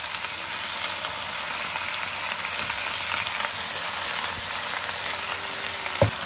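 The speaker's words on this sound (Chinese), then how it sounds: "我们先给它煸炒一下" Shredded cabbage stir-fried in hot oil in a wok gives a steady, close sizzle and crackle throughout, with a brief sharp clatter near the end and no talking.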